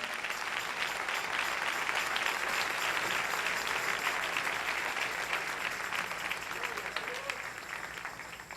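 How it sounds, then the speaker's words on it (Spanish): Church congregation claps continuously in a steady, full wash of applause, with a few faint voices mixed into the crowd noise. "Denle un aplauso al Rey si lo siente en su corazón."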